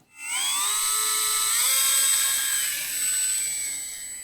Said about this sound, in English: Today it's time to do another flight on my E-Flite Micro Draco.